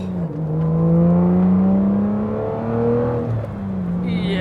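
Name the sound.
manual Aston Martin DBS engine revving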